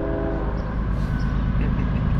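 Eastbound CSX M404 manifest freight with two lead locomotives sounds a loud, sustained horn over the heavy, continuous rumble of the passing train, close by and with no talking.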